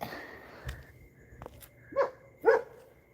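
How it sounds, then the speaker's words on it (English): A small dog gives a couple of short barks, the second louder, amid quiet background noise and a few faint knocks or footsteps. "What kind of dog you got?"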